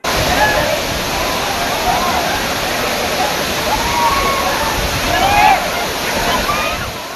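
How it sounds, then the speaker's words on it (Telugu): The Mahitapuram waterfall in the Mulugu district forests roars steadily as it cascades from high hills, a loud continuous rush with a faint voice underneath. "ఎత్తైన కొండల నుంచి జాలువాడుతున్న మహితాపురం జలపాతాలు"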